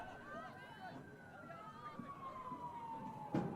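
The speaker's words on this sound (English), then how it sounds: "That sounded like a fire engine siren from what I'm hearing." A faint fire engine siren wails in the distance, its pitch sliding slowly downward beneath someone speaking and general background bustle at a girls' soccer game.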